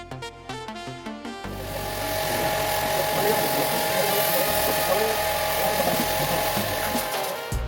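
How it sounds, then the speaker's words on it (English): A pressure washer runs at a house, its steady motor drone holding loud and constant after a brief start with tonal beeps and pulses, while people talk over it. "we just demo testing pressure washer behind me"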